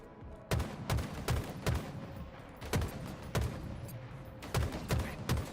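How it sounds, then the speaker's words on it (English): Gunfire in a Halo HCS competitive match, a series of heavy, booming shots in irregular clusters of two or three, loud and close over a steady game background hum. "I'm getting shot in the back."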